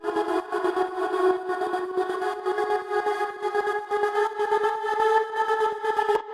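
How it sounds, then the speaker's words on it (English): A sampled choir vocal holds sustained chords while a trance gate chops it into rapid rhythmic stutters, loud and steady throughout, with no talking. "It's basically a choir from our sample pack with a gate effect on it."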